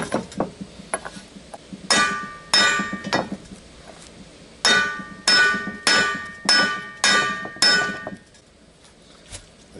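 Hammer blows pounding a socket against an old bearing to drive out a truck U-joint bearing, done in a backyard: sharp metallic strikes come in close loud bursts of two or three, about nine hits in all.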